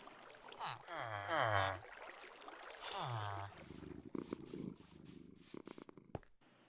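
Cats in the Minecraft video game purr and meow in short, loud, close bursts, followed by a series of clicky game sound effects.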